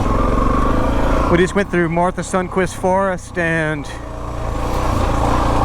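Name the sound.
Suzuki DR650 motorcycle engine while riding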